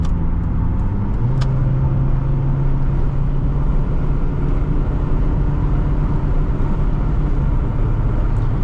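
A 2006 Subaru Forester 2.5 X picking up to highway speed, with a steady, loud engine drone and road rumble filling the cabin and a sustained low tone entering early on.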